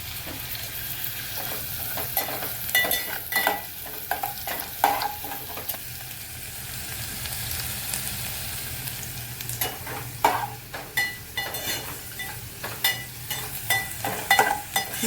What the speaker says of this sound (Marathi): कांदा का परतवून घेणार आहे ती.